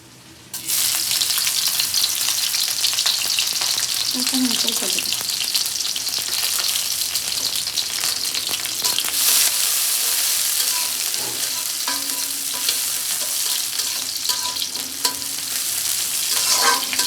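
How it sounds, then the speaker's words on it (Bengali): Onions frying in a pan until reddish, a loud, close and continuous sizzle starting abruptly after a brief quiet moment, with bursts of crackle and occasional stirring scrapes throughout. "আগে আমি একটু পেঁয়াজটা একটু লাল করে নিচ্ছি।"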